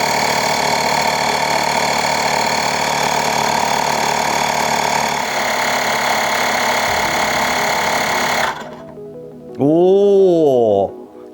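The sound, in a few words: YANTU double-cylinder electric air pump inflating a tire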